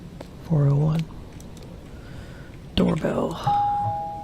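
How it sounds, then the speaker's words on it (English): Two electronic doorbell chimes ring out in the PC game Night Delivery, each a short bright tone pattern, separated by a pause, with a steady game-like hum underneath. "Doorbell."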